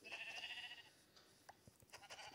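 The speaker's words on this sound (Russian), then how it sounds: "Эй, овцы, ловите овчечку." A sheep in the Minecraft video game gives a faint, wavering bleat at the start, followed by soft scattered clicks and game noises.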